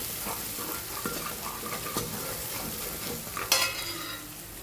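A spiced chickpea mix with turmeric, red chili powder, coriander-cumin and salt being stirred in a frying pan, with steady soft sizzling under repeated spoon scrapes and one sharper clink near the end.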